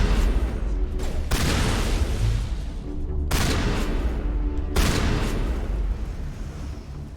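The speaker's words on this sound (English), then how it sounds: "Wait, who threw that grenade?" Heavy blasts and rolling gunfire in Mass Effect during a fight at a gate, with a grenade blast among several long booming bursts over a loud, dense combat rumble.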